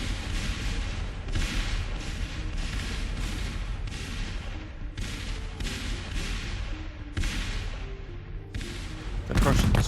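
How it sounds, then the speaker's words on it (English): Booming artillery volleys from a Seven Years War battle in a strategy video game, heavy repeated blasts arriving in irregular bursts with rumbling low roar between them and a louder crash at the end. "The battle opens at around 6 AM with a fierce artillery bombardment on both sides."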